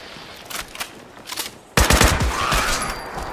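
Gunfire in Fallout 76: a few quieter shots, then a sudden loud burst of rapid close-range fire that keeps going to the end.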